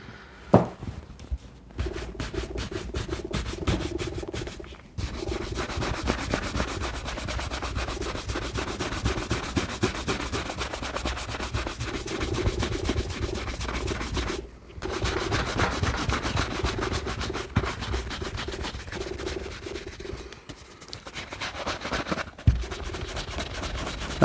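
Brush strokes rub shoe cream across the leather of Red Wing 213 boots in a steady, close scrubbing rhythm with brief pauses, no voices present.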